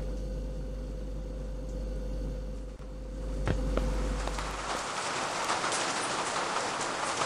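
Rain in a scary video game, a steady hiss and patter that swells after a low engine-like hum cuts out, with a few sharp clicks in between.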